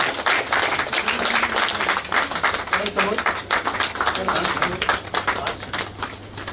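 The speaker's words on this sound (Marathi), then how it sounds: "सर्वांनी टाळ्या वाजवा." At an award felicitation ceremony, a crowd claps in a dense, sustained patter of many hands, while a voice speaks over the applause.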